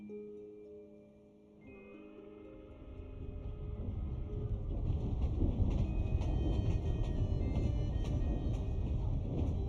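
Genshin Impact train starting up in Snezhnaya, quiet tonal hum at first, then a rising low rumble and rolling clatter that swells to a steady, fairly loud roar.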